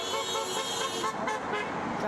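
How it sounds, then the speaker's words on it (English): Car horns toot repeatedly in a steady mix of passing traffic as vehicles drive beneath the Tempe Bridge during a roadside demonstration in support of Ukraine, the honks blending with continuous road noise. "Cars honk as they pass beneath the Tempe Bridge."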